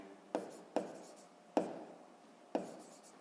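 Chalk or pen tapping out an answer on a board during a sixth-grade maths lesson, four short sharp strokes spaced unevenly over a few seconds, each with a brief scratchy tail, close and fairly quiet.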